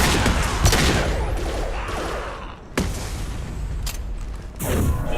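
Rapid gunfire and sharp booms from weapons in Mass Effect 2 combat, loud and close, with bursts of shots, a few heavy impacts and a brief lull before firing resumes.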